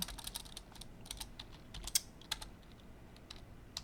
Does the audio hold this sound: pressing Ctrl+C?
yes